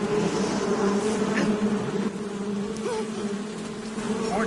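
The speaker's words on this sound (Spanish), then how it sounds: "Las abejas." In the video game Metal Gear Solid 3, a swarm of bees drones in a continuous loud buzz, the dense hum holding steady throughout with no voices.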